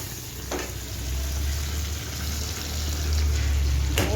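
Salt, turmeric and chili powder sizzle in hot oil for a vegetarian aloo dum, giving a dense, continuous hiss close up that swells slightly midway, with a couple of faint stirring knocks and no voices.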